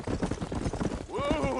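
Horse hooves clip-clopping on a trail in the Western video game Red Dead Redemption, a quick rhythmic patter of beats with a voice heard over it.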